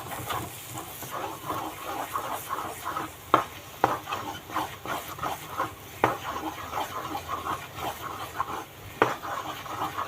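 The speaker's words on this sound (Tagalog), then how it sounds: "Patient lang ang paghahalo." Thick purple yam ube halaya stirred in a pan, a continuous close scraping and rubbing with soft sticky squelches and an occasional sharper knock of the spoon against the pan.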